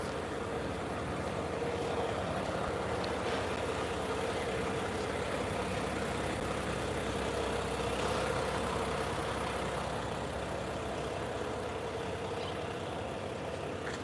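A car that has just pulled up and stopped sits idling nearby, a steady low engine hum running quietly and evenly throughout with no voices.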